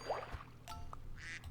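Cartoonish duck quacks from the Super Auto Pets video game, a couple of short nasal calls heard alone at moderate level with no talking.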